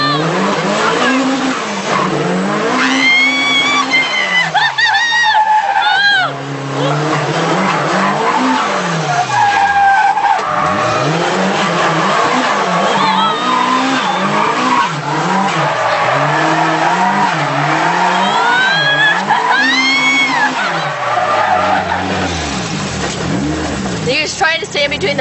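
A drift race car slides around a pylon-marked track, its engine revving and dropping in repeated surges while the tires squeal and skid loudly and continuously. Voices talk over the engine noise.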